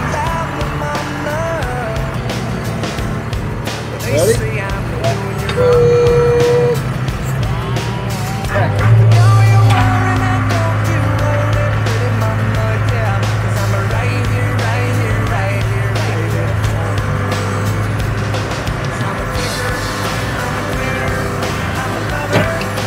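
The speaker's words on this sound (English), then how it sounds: "park the backhoe right here and kind of pull this pile down and pull that pile in" John Deere 4052R tractor with backhoe running in limp mode while pulling down a dirt pile for a parking lot, steady loud diesel engine drone with shifting pitch and hydraulic strain, continuous and close.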